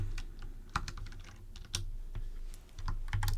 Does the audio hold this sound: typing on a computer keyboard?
yes